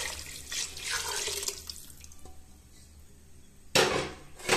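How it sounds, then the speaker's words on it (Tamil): Water gushes and splashes into a metal cooking pot for coriander rice, fades briefly, then pours in again with a louder rushing burst near the end. "இப்போ நம்ம தண்ணியை சேர்த்துடலாம்."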